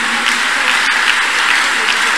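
A church congregation claps loudly in a big, steady burst of applause at a healing and deliverance service, dense and sustained throughout with no distinct voices rising above it.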